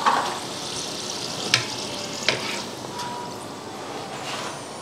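Freshly fried french fries sizzling on a strainer in a home kitchen, a steady crackling hiss throughout with a couple of brief clinks, no talking.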